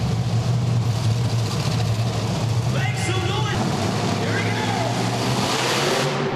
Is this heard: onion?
no